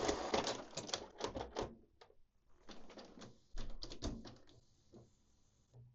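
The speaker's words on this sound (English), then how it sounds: "Open the cartridge access door." The cartridge access door of a Canon printer is opened, giving a run of quick plastic clicks, taps and rattles up close, with a brief pause partway through and a soft hum toward the end.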